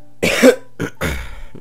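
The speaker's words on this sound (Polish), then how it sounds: "Nie, no, nieładnie tak kaszel na odcinku" Two or three harsh, abrupt coughs from a man, close and loud, with short pauses between bursts and a faint final clearing of the throat.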